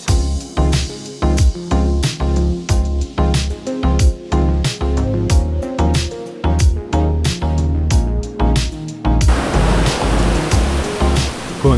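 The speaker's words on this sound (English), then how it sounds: "Strong waves and powerful currents make swimming here risky" Strong ocean waves break at a beach on Nusa Penida, loud, churning surf crashing repeatedly with rhythmic surges and a continuous roar of rushing water close by.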